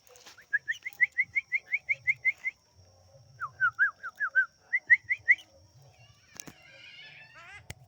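A sooty-headed bulbul (kutilang) sings close by in bright, whistled phrases: a quick run of about ten repeated notes, a short pause, then more sliding and rising notes, with faint low murmurs underneath.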